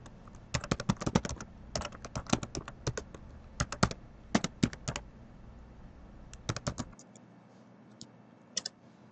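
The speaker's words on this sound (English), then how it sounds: "we can go ahead and put in our username and password" Typing on a computer keyboard, quick bursts of close, crisp key clicks in irregular clusters with short pauses, ending with a few scattered taps.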